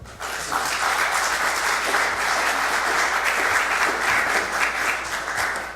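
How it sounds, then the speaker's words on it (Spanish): A crowd applauds steadily at a judicial auxiliaries training school ceremony, sending off Dr. Richard Aguilar; dense, sustained clapping fills the whole stretch at even strength. "Lo vamos a despedir con fuerte aplauso"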